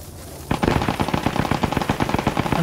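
Sustained machine gun fire erupts after a short quiet lead-in during a strafing run in the World War II shooter Post Scriptum, a rapid, loud, evenly spaced stream of shots.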